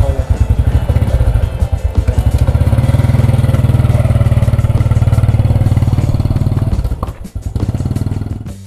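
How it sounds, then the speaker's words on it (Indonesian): A motorcycle is ridden on the road, its engine loud and close with a steady throbbing putter, easing briefly near the end before pulling again. "saya harus pakai bawa motor sendiri ya"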